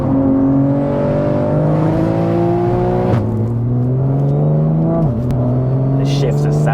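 A 1000+ bhp single-turbo BMW G80 M3 pulls hard under acceleration, its loud engine note climbing steadily and dropping sharply at two gear shifts, with turbo whine riding over the top.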